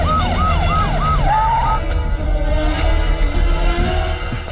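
A loud, close ambulance siren wails in rapid repeating sweeps, then settles into a steadier tone over rumbling traffic.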